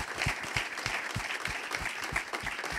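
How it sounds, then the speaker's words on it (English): Sustained audience applause at a Negro Leagues baseball celebration, dense steady clapping from a crowd filling the whole stretch at moderate level with no talk over it. "And I think that deserves a round of applause."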